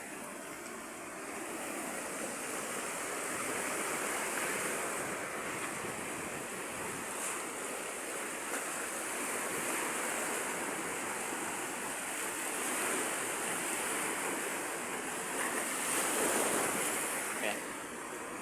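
Sea waves wash in over slippery rocks in a continuous broad hiss of surf and churning water, rising and falling gently, with wind noise and occasional faint voices.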